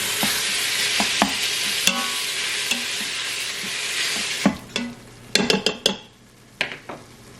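Mild sausage going into hot olive oil with garlic in a pan: a steady loud sizzle fills the first half, then sharper clinks and scrapes of a utensil against the pan punctuate a fainter fry toward the end.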